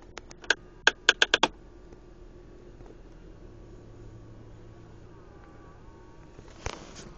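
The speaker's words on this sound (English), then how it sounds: "comes out of the center console every time that I turn on the car and the air conditioning is on" Chrysler Pacifica center console producing a quick run of sharp clicks at the start, then a quiet idling cabin, and a final brief click cluster near the end.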